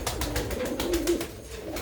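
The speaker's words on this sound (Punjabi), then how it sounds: "ਦੇਖੋ ਕਬੂਤਰ" Pigeons kept by a fancier, a group of blue-coloured birds, give soft, low coos that run on steadily across the moment, close by, with light rustling and a busy background and no talking.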